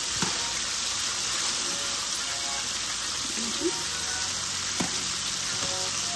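Buttermilk-battered chicken strips frying in oil on turned-down heat, a steady close crackling sizzle with a few faint knocks now and then.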